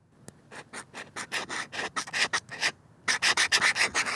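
Stylus writing on the screen of a Supernote Nomad A6 X2 e-ink tablet, close up: a rapid run of short, dry scratching strokes with a brief pause midway, then another quick burst of scratches.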